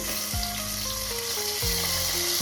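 Tomato and onion frying in a pan for chicken biryani give a steady, close sizzle that runs through the whole stretch, alongside faint tonal sounds.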